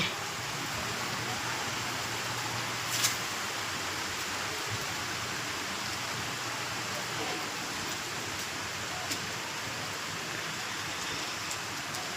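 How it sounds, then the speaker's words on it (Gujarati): Monsoon rain falling steadily, a constant even hiss of rainfall with no breaks and faint occasional drips or knocks, heard fairly close. "તો કઈ આજે વરસાદ તો ચાલુ જ છે"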